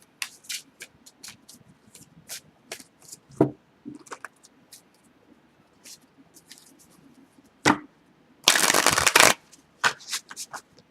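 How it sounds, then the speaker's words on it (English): Cards are shuffled close up in repeated soft flicks and riffles, ending with a longer dense riffle burst, with quiet pauses between. "I'm just going to shuffle your cards a little bit"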